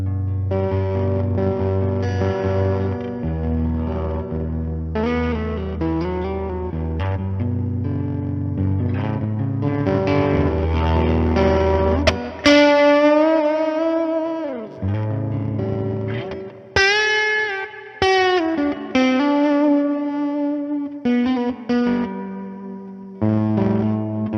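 Electric guitar played through EHX Percolator and EHX Harmonic effects pedals, distorted and loud, with sustained chords giving way to bending, gliding single-note lines and pitch sweeps, continuous throughout with no talking.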